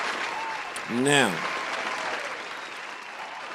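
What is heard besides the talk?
podcast studio applause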